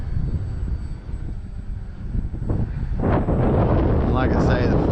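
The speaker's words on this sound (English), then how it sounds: "Good looking plane though, nice slow flyby." An E-Flite Trojan T-28 RC model airplane, 1.1 m span, makes a slow flyby in gusty wind; a steady engine whine sits under heavy wind rumble and grows louder near the end.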